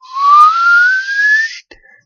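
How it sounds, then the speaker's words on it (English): A single rising whistle tone from a candy cane factory model's receiver box, steady and bright, gliding slowly upward for about a second and a half before cutting off, with a faint blip after. "presses the red button on top of the receiver box, and a whistle goes up"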